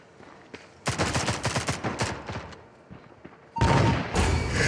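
Gunfire from the Critical Strike video game: several rapid bursts of automatic shots, loud and close, followed by a pause and then another dense, sustained volley.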